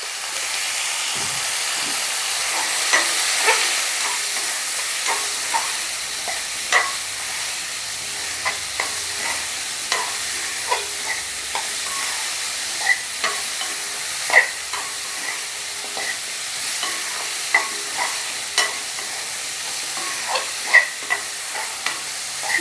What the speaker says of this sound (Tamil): சிம்மில் வச்சு தான் வதக்குறேன்